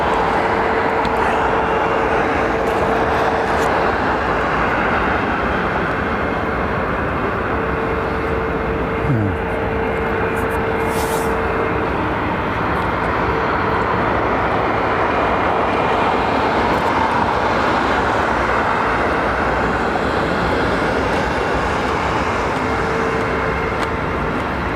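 A jet aircraft departing London Heathrow Airport gives a long, steady distant roar that swells and holds under faint ambient background, with no talk.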